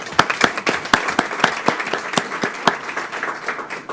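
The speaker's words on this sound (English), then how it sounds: "If you'll please join me giving them a round of applause." Applause at a school board meeting, a small group clapping in a sparse, uneven rhythm with distinct sharp individual claps up close, tapering slightly toward the end.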